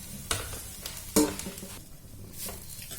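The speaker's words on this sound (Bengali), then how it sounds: "এবার গ্যাসের ফ্লেম লো করে দিয়ে গুড়ের সাথে নারকেলটাকে গালিয়ে দিই।" Grated coconut and jaggery stirred in a hot pan over a low gas flame for a puli pitha filling, with soft scraping sizzle and a few sharp utensil knocks against the pan, heard alone without talk.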